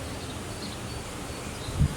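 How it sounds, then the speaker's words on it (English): Honey bees in an opened hive during an inspection, a steady low buzzing hum filling the background throughout, with a brief louder bump near the end. "But there's a lot of bees in here."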